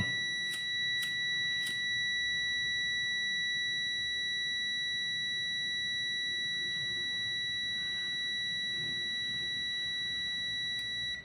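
A continuity tester clipped across a thermostat gives a continuous high-pitched electronic buzz that holds steadily throughout, with a few faint clicks early on and no talking.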